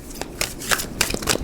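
Tarot cards being shuffled by hand in several quick riffling bursts, close and crisp, with short pauses between the bursts.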